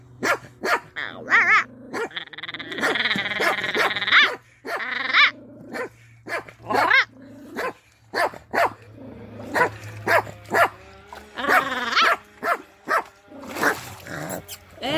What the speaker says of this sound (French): le chien de garde là